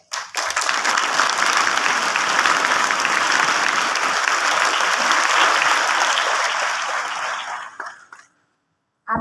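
Students applauding at a school's annual academic inspection, loud, dense, sustained clapping from a large group for about eight seconds before it stops abruptly.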